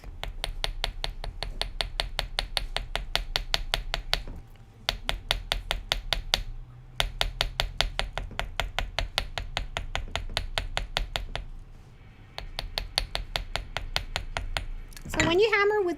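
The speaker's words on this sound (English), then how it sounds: "when you hammer with the ball side of the hammer, notice you get a very nice kind of dapped texture" Rapid, steady taps from the ball side of a hammer ring against metal wire shaped into a leaf earring, in long runs, broken by a few short pauses; close and crisp.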